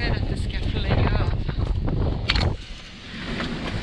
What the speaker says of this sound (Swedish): Och nu kommer det vindar från alla håll.